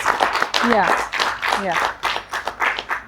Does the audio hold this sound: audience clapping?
yes